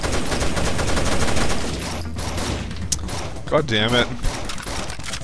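Pistol gunfire in the co-op shooter Rainbow Six: Vegas 2, a dense run of rapid overlapping shots that fills the clip, with players talking and exclaiming over the combat.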